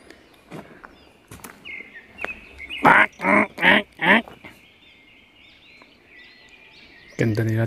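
Birds calling outdoors at a relaxing open-air spot, with a run of four loud, close, duck-like quacks in quick succession amid softer scattered calls and rustling footsteps, then a sudden louder burst at the end.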